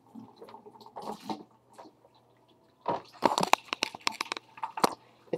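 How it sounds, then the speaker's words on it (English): Water from a betta fish tank splashing and gurgling into a bucket in irregular bursts, with quiet pauses between pours and a busier stretch of sloshing toward the end. "we can begin to empty the tank"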